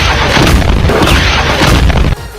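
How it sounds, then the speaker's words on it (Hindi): Loud, dense barrage of blasts at Ain al-Asad airbase in Iraq after drone and missile attacks, explosions rolling one after another without pause before cutting off abruptly near the end. "इराक के उस एयरबेस के अंदर एक के बाद एक जोरदार धमाके होने लगे"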